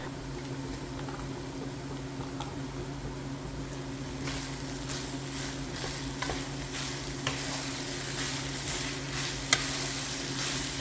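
Julienned carrots and capsicum are stirred in a hot pan, giving a steady low sizzle with soft, irregular scraping strokes that pick up in the second half, close and moderately loud with no talking.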